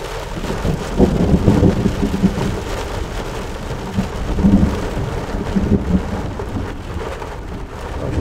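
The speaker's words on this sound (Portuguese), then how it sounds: "Olha, a chuva deu uma engrossadinha agora, ó." Heavy rain pouring steadily on a rainy day in São Chico, with low rumbles of thunder rolling underneath, a dense, loud and continuous wash of sound with no voices.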